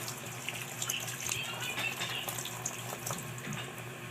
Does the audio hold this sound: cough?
no